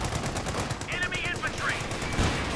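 Rapid machine gun fire in a Company of Heroes 2 battle, dense continuous bursts of gunshots loud throughout, with a voice talking over the gunfire.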